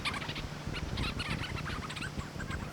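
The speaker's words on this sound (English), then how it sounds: "What you're hearing are these amazing vocalizations from these Leach's storm petrels." Leach's storm petrels calling at a night nesting colony on Saddle Rock Island off the Oregon coast, a dense continuous chorus of rapid chattering, purring and gurgling calls overlapping from many birds nearby.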